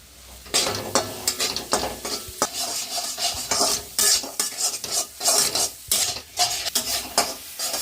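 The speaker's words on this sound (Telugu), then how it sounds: "ఇంకా అన్నం మొత్తం అయితే అలా వేసుకొని కలుపుకున్నాం" Egg fried rice seasoned with garam masala being stirred in a pan, with a spoon scraping and clinking in a steady, uneven rhythm over a soft sizzle, close and fairly loud with no talking.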